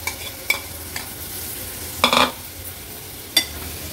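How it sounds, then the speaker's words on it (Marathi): Cleaned baby shrimp sauté with onions and masala in a pan over the flame, a soft sizzle under several sharp scrapes and clinks of a spoon against the pan. "करदी पण मसाल्यामध्ये छान आपल्याला परतून घ्यायची आहे।"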